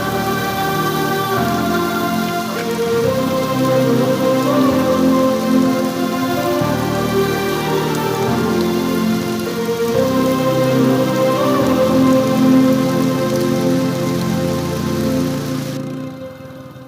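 Heavy rain falls in a steady, dense roar that hammers on surfaces nearby and stays loud without a break before fading at the very end. Underneath runs a low, muffled musical hum.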